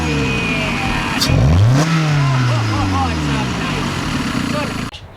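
A car engine fitted with a cable-operated throttle body revs up sharply, climbs in pitch, then falls back toward idle, loud and close, before cutting off abruptly at the end.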